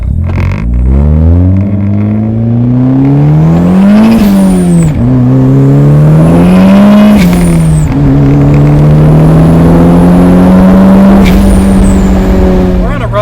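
A 250-horsepower family sedan with a rally-car engine pulls hard in first gear, its loud close engine note climbing steadily in pitch, easing briefly at shifts and climbing again over a continuous roar.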